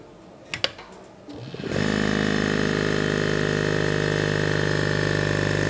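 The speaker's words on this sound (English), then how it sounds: "This pump is working and the air comes into this tank." A DAVV SCU80 oil-free hookah dive air pump kicks on after a few faint clicks, then runs at a steady, loud mechanical hum with a buzzing rattle that holds constant to the end.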